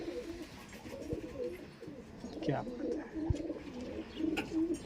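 Punjabi pigeons with black eyes coo in low soft bursts nearby, repeating through the moment while someone speaks briefly over them.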